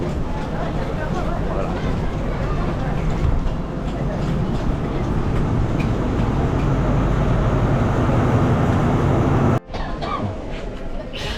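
A train carrying passengers from Laos toward Penang, Malaysia rumbles on steadily with a dense low roar and rattle throughout, people talking over it, broken by one brief sharp drop near the end.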